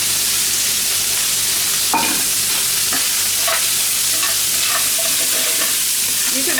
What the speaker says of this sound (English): Deglaze your pan. Always deglaze and make sure you've got nothing burnt in there.